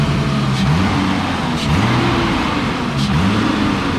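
A BMW E34 drift car drives along with a steady engine drone, its revs rising and falling through several gear changes, heard close from inside the cabin.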